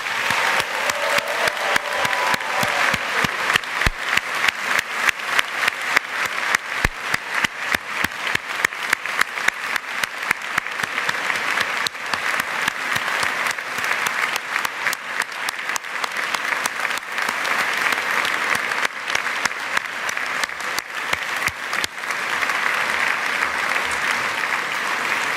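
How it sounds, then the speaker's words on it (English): Sustained applause fills a graduation ceremony hall at London Business School as graduating students clap for the people who supported them, a dense, even wash of many hands that keeps going throughout without letting up. "join me in applauding those who have supported them in getting them here today"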